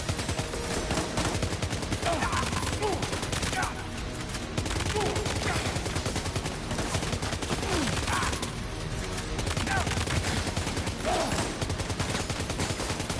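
Dense assault rifle gunfire rattles almost continuously through a Death Stranding 2 video game firefight, with rapid bursts layered over battle noise and brief lulls between volleys.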